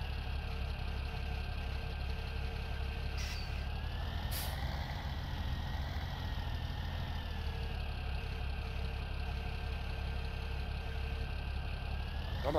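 A tractor in Farming Simulator 17 runs with a steady, close engine drone and rumble, a faint whine rising and falling over it and a couple of brief hissing bursts partway through.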